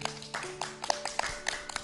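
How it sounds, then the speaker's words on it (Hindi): Studio audience clapping for a little girl on a children's television programme, sparse and uneven with scattered individual claps over a faint tonal background. "तालियां बजाइए भाई प्यारी सी दविशा के लिए।"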